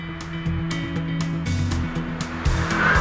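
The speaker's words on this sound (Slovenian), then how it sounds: "da se ob prestavljanju na vzdolj Vrtljaji motorja samodejno dvigujejo" A Ford Focus ST engine revs up during gear changes, with rising engine tones that drop and climb again in quick steps, loud and close, with tire and road noise.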